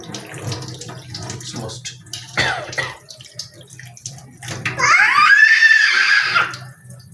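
Tap water runs steadily into a sink while fresh fish from the market are cleaned, a brief louder gush near the end, with someone speaking quietly over it.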